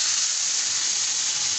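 Water poured into mustard hilsa fish frying in a pan, a loud, steady hiss of sizzling and steam that holds evenly throughout the short moment, with no talking.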